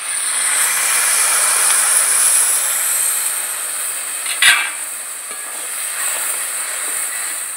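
A splash of water hits spices in a hot pan and sets off a loud, close, hissing sizzle that slowly fades, broken by a brief clatter midway.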